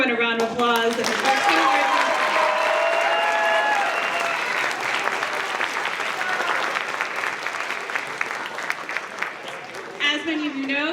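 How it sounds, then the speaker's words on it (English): A school audience at a percussion night concert claps for the students and teachers, long steady applause with scattered cheers and whistles, while a voice speaks briefly at the start and end. "So please give everyone a round of applause."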